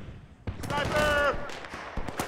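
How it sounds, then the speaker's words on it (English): Gunfire in Battlefield: Bad Company 2, sudden bursts of shots and sharp cracks over a busy battle din, with a shouting voice cutting in partway. "Getting shot from over here now."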